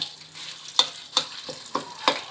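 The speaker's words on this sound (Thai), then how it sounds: "ใส่พริกแกงเผ็ดที่เราเตรียมไว้นะครับลงไปครับผม" Red curry paste sizzles softly in hot oil while a spatula scrapes the pan in regular strokes, several in quick succession.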